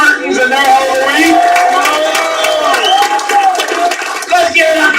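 A crowd at a company regional kickoff event cheers, whoops and applauds the Spartans team, a dense, loud roar of shouting voices and clapping that stays steady throughout.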